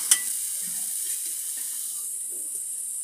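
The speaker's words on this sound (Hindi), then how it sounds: "इसको भी थोड़ा भून लेंगे। भून लेने से क्या है चटनी टेस्टी बनता है।" Fresh coriander leaves frying in a pan for turai chutney, a steady soft hiss and sizzle with faint stirring scrapes throughout.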